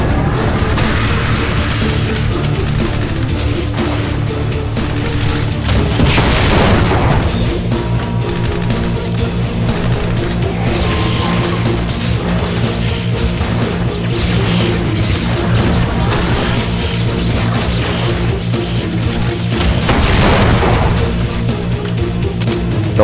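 Rocket launcher explosions in the Project Brutality mod of Doom, on Final Doom's TNT: Evilution, give two heavy, booming blasts several seconds apart over loud, dense game music and action noise.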